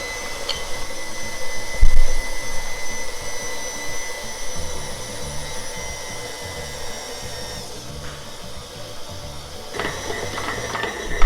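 A stand mixer runs at low speed kneading cinnamon bread dough, giving a steady mechanical whir with rhythmic motor strain and occasional knocks, fairly loud and close with no talking.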